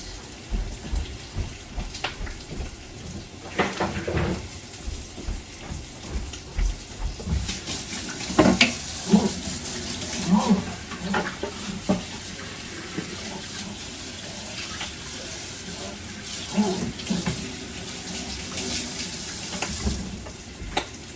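A kitchen sink faucet runs steadily for the whole stretch, water splashing and spattering irregularly into the basin while dishes or items are rinsed, close and moderately loud with no talking.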